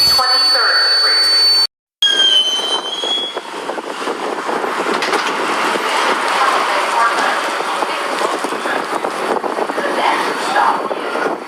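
A New York subway 6 local train rumbles and roars along the tracks after a brief chime-like tone and a short dropout, the noise steady and close with rattling texture.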